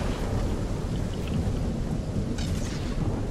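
A Fortnite storm rumbles as continuous thunder over steady, heavy rain, loud and enveloping with no voices.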